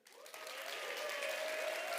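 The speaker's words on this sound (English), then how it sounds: "we're going to have to give them the biggest round of applause if you're in the room tonight." Audience applause at a startup showcase evening welcoming two speakers onto the stage, swelling quickly into steady, sustained clapping from a room crowd, with a faint tonal hum running underneath.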